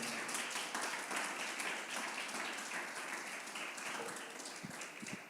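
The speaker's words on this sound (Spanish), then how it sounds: "Dale palmas al Señor, por favor, con todo tu corazón." A church congregation claps along during a Spanish-language sermon on the Holy Spirit, a steady, dense wash of clapping that continues without a break for the whole stretch.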